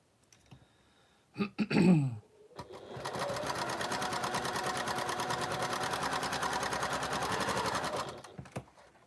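A sewing machine runs with bobbin thread in a continuous, rapid, even stitching buzz for about five seconds, preceded by a few brief clicks and fabric handling.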